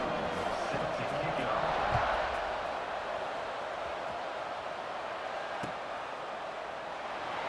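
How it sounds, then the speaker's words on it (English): Stadium crowd noise in EA Sports College Football 26 during a college football game, a steady dense roar with a slight swell early on, filling the whole stretch without clear talk. "this crowd now ready to get behind them"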